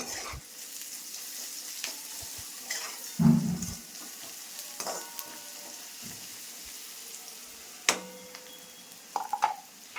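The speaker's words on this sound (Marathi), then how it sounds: "आता ह्याच्यात जरा फिरवून घेऊ सगळं" Sugar being stirred into a kanda poha mixture in a pan, a soft scraping and faint sizzle with a few louder clinks of the spoon against the pan, no talking.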